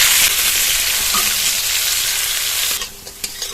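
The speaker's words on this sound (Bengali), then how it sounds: "লবণ হলুদ ছাড়া খালি ভেজে নেব আলুগুলো।" Potato pieces frying without salt or turmeric in leftover fish-frying oil in a wok, a loud close crackling sizzle with stirring scrapes that quiets near the end to a softer hiss with a few pops.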